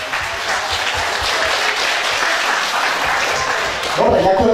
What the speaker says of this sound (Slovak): dobrá dvojka, veľký potlesk